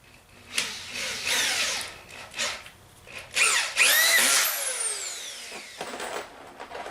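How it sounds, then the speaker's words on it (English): A power drill drives number 9 2.5 inch screws into a wooden garage shelf, with several whirring bursts that rise and fall in pitch, nearby and fairly loud. "You can use a drill."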